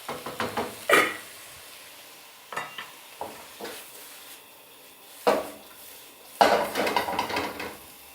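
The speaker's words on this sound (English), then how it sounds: "Stir it a little bit so it won't stick too much." Macaroni with bell pepper is stirred in a pan, a few separate bursts of scraping and clinking from a utensil against the metal over a faint background sizzle, with quiet gaps between and no voices.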